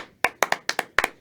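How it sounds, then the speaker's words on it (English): Sharp hand claps ring out in a quick, irregular burst, about seven of them over a second, close and crisp, like a small group starting to applaud. "Applause"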